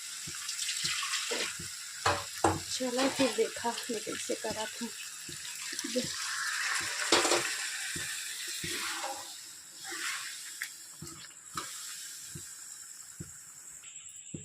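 Water is poured into a pot of simmering chicken curry, giving a steady splashing hiss with scattered clinks and bubbling, while someone talks over it.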